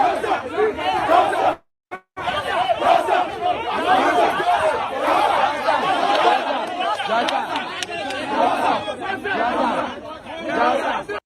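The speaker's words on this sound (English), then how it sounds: "They're booing at one of the board members" A crowd of university students, SUP members, jeering and booing a board member in person, a dense, loud, continuous mass of shouting voices with chatter, cut by a brief silence near the start.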